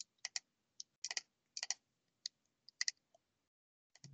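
Keyboard keys and mouse buttons clicking at a computer during a code review, in scattered short bursts of sharp, close clicks with quiet gaps between them and no talking.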